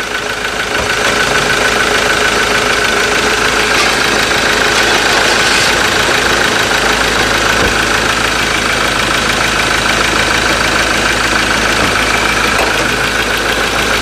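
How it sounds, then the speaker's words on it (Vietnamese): A 2017 Ford Ranger XLT engine idles with the hood open, a loud, steady diesel-like rumble with a faint rhythmic knock running throughout, close to the bay. "Đây động cơ XLT đây anh em nhé."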